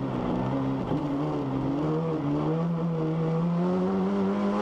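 A race car engine drones steadily at close range through a defensive racing battle, its pitch sweeping and climbing as the driver accelerates as late as possible, with no talk over it.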